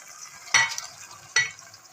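Chicken with whole chillies and ginger-garlic paste being stirred in a pot for a stew: two distinct stirring scrapes over a soft, steady sizzle of frying, close up, with no voices.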